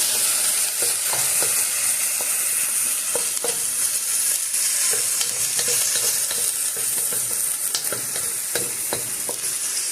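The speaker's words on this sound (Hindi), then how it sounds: "ये आप इसको अच्छी तरह से फ्राई करें।" Chicken pieces and peas fry in a pan as the base for a chicken and mixed vegetable soup, giving a steady, close, loud sizzle broken by scattered clicks and scrapes of stirring, with no voices.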